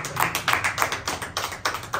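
A church congregation claps hands together in a quick, regular rhythm of about five claps per second, close and steady, with no voices over it.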